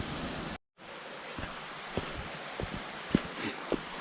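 Waterfall at Sgwd Einion Gam in Waterfall Country, Wales gives a steady broad rushing roar, briefly cut out near the start, with small knocks and rustles close by.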